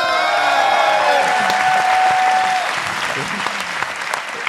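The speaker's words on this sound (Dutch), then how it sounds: "Applaus voor Jeroen Baart!" A live audience at a science show greets Jeroen Baart with loud applause, cheering and whoops, a dense crowd roar with voices mixed in, easing slightly toward the end.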